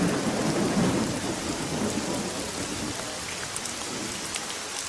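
Heavy rain pours steadily with low rumbles of thunder, a dense, even hiss at moderate loudness with no voices.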